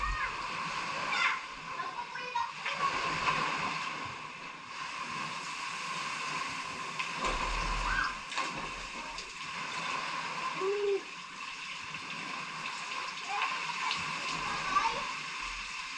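A shower runs at a beach resort in Sariaya, Quezon, just before a swim in the pool. Its steady water spray and splashing fill the whole stretch, with voices talking over it.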